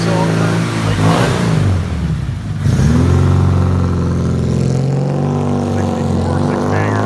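A 1964 Ford Ranchero with a six-cylinder engine rolls out at a Main Street hot rod car show, its loud, close engine note rising and dipping as it pulls away, with steady idle harmonics and crowd noise around it.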